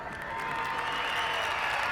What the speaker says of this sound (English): Wow, listen to the crowd.